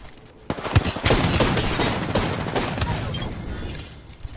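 Rapid bursts of gunfire in the video game Apex Legends crackle continuously, dense and loud, with booming shots layered over a noisy, chaotic background.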